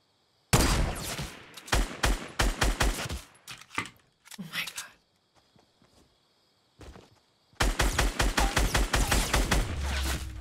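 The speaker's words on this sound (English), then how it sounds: "Oh wow, they shot" Rapid gunfire in the video game Fortnite Battle Royale: loud, dense volleys of shots crackle for several seconds, break into scattered pops and near-silence, then a second sustained burst resumes.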